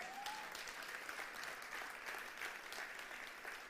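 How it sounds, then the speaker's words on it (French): Church congregation applauding during a French sermon, a steady, fairly faint wash of many hands clapping at once with no pauses throughout. "Et vous avez le droit de dire Amen et applaudir même."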